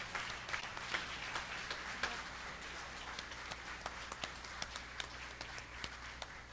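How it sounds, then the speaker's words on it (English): Audience applause for student competitors at a Stark Tank pitch event, a fairly quiet, even patter of clapping with scattered sharper claps, steady and somewhat distant. "I would like everyone to just give our students a huge round of applause, our competitors."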